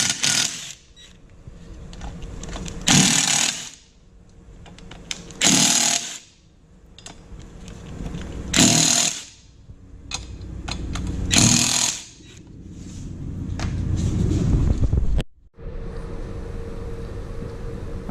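An impact wrench works the 14 mm fasteners on a 2017 Yamaha R1 rear sprocket in four loud, close bursts of rattling hammering, separated by quieter pauses with light handling noise.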